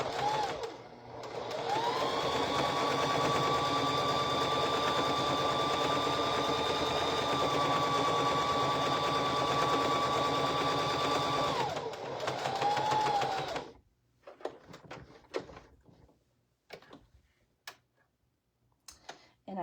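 A sewing machine stitches a quilt star applique onto a shirt, a loud steady whirring run for about twelve seconds that stops abruptly, followed by quieter clicks and fabric handling.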